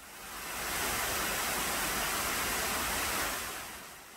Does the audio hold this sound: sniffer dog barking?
no